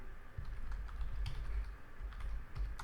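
Keystrokes on a computer keyboard as a command is typed into a terminal during setup, a steady run of close, crisp clicks with short pauses and no voices.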